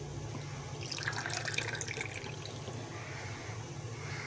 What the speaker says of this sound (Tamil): 2 டம்ளர் கொள்ளு தண்ணி ஊற்றியாச்சு.